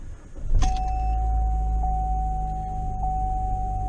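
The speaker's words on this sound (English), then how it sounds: "I'm gonna go ahead and start the car" A car engine turning over and catching, a sharp start followed by a steady idle hum with a thin electrical whine, close and alone without speech.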